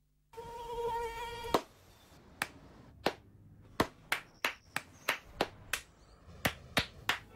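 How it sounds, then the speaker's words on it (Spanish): In a dengue-prevention advert, a thin, whining mosquito buzz opens and then gives way to a run of sharp, separate hand claps, loud and irregularly spaced, with no talking. "No aplaudamos al mosquito, combatámoslo en serio."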